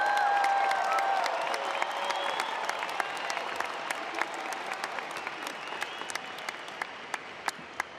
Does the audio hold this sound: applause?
yes